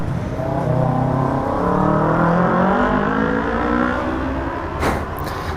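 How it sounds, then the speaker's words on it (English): A Kawasaki Ninja 250 motorcycle engine, a loud close whirring drone that rises and falls in pitch as it revs, ending with a brief sharp burst near the end. "That Ninja 250 sound."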